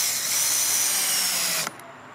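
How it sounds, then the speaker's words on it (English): Power drill driving 3/4 inch screws into wood for a square foot garden irrigation system, a steady high whine that runs close and loud, then cuts off abruptly near the end. "we're going to drill it down"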